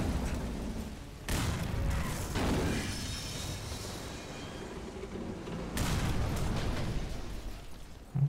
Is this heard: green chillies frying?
no